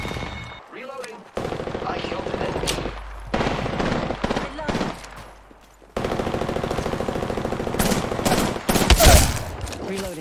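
Gunshots in the battle royale shooter Apex Legends: rapid automatic bursts and single loud shots crackle close by in choppy clusters, broken by brief lulls, with a dense flurry of fire toward the end.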